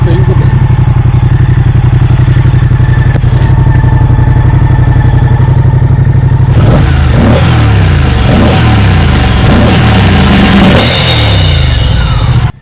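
A Moto Guzzi Stelvio motorcycle engine idles loudly up close, then revs repeatedly in rhythmic bursts, with a sharp high whine near the end.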